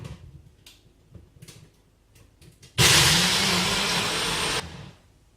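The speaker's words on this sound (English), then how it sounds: "I'll throw a bit of ice in there. It's going to be a little noisy when I chop it all up." A kitchen blender chops ice for a detox drink. A few soft knocks and clatters come first, then a loud, harsh whirring roar runs for about two seconds and cuts off abruptly.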